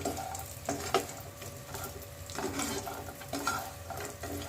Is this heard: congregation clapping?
no